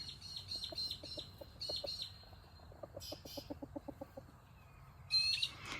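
A rooster gives a series of quick, rhythmic clucks and low calls, moderately close, with small birds chirping faintly in the background.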